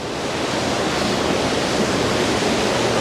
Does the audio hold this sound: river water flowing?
yes